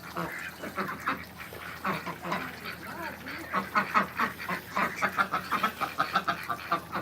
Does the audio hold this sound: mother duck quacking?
yes